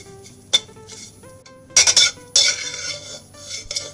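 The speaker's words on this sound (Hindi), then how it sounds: "सेवइयों को ये चिमटे की मदद से पलटूंगी" Vermicelli frying in a pan and being flipped with metal tongs, sharp clinks and scraping clatters in bursts over a low background sizzle.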